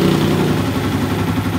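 A Yamaha Jupiter MX motorcycle engine, newly started and not yet tuned, idles close by with a steady, loud, slightly uneven putter throughout, no voices.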